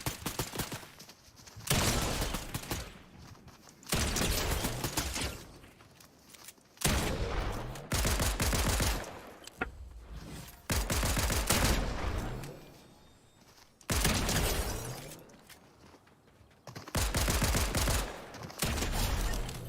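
Rapid bursts of gunfire in the video game Fortnite, several loud volleys separated by short pauses, up close and dominating with no talk.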